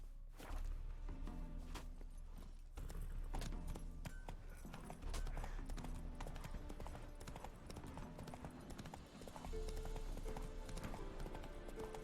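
Geralt's horse Roach clip-clops along at a steady pace in The Witcher 3, hooves thudding in a regular rhythm over game music, with little else around.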